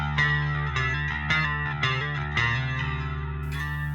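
Bass guitar notes played through a flanger with the chorus switched off, a sustained, distorted, effect-laden tone with several plucked notes in a steady rhythm, heard alone without talk.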